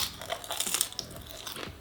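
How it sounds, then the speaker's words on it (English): Close, soft crunching of cake coated in Cheetos as it is bitten and chewed, a brief dense burst of crisp crackles with no talking. "It starts crunchy, but then it like melts in your mouth, the Cheetos"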